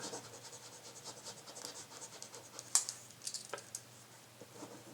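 A Frixion erasable pen rubs across paper, giving a faint, close scratchy friction that patters in short strokes with a few sharper ticks, and no voices.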